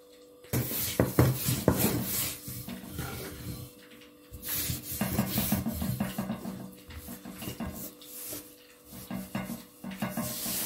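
Pizza dough for two breads being rolled out on a board, a close, repeated rhythmic rubbing and rolling, strokes with short pauses, with light clunks of the rolling pin and no voices.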